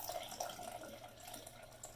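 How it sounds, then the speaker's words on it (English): Water pours and trickles softly into a French vanilla lotion mixture being stirred, a faint, steady splashing with small bursts. "And I'm going to add the water."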